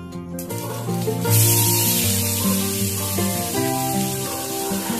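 Cumin seeds and finely chopped onion frying in hot oil for an egg dal tadka, a steady close sizzle with a brighter hiss swelling after the first second, under faint tonal background music.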